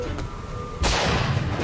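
Gunfire in the video game Bioshock Infinite, a sudden loud blast midway that rolls into a sustained roar after a quieter stretch, with no voices.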